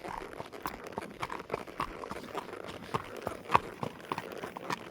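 Hooves of Toby, a horse being ridden, clop in a steady walking rhythm close by, with soft crunching steps and light gear rattle continuing throughout.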